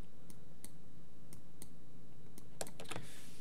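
Computer keyboard keys pressed one at a time as shortcuts while modeling a hand in Maya, with several spaced single clicks followed by a quick cluster of taps near the end, quiet and close.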